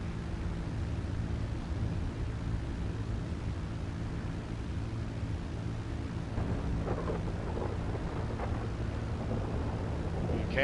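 Steady rain and rolling thunder in Grand Theft Auto V during a night plane mission, a continuous dense wash of rainfall with low rumbling thunder underneath, unbroken for about ten seconds with no talking.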